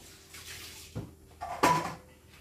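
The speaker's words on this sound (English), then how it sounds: "Rinse my bowl again." A bowl being rinsed under tap water in a kitchen sink while making chicken and rice soup: a brief, soft splash and water clatter midway, with some faint background noise and no speech.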